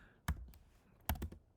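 A few quick keystrokes on a computer keyboard, two short clusters of sharp clicks separated by a pause, close and fairly quiet in an otherwise still room.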